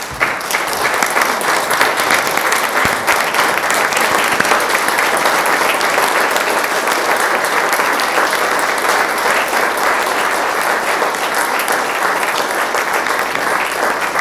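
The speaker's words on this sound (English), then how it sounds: "Could I please ask you to all stand and give them one more round of applause" A standing audience at a city candidate forum in La Verne gives a loud, sustained round of applause, dense clapping that carries evenly for the full length without pause.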